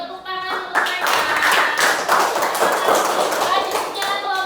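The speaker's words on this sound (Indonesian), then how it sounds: "Kita beri tepuk tangan untuk mereka." Children in an Indonesian classroom clap for a student group after its presentation, a dense burst of hand claps starting just under a second in and continuing steadily to the end, with some voices mixed in.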